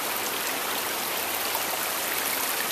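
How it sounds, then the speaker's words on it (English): Rushing creek water crossing a woodland trail on a rainy-season hike near Multnomah Falls and Wahkeena Springs, a steady broadband wash that holds an even level throughout with no voices. "Creeks that cross the pathway, because even though it's July, we've had so much rain"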